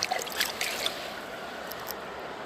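Water rushing down a waterfall in Pyeongwon, heard as a constant splashing roar, fairly close and steady, with a few sharper spatters near the start and no talking.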